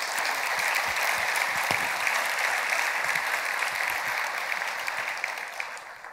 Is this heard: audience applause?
yes